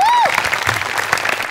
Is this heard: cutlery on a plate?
no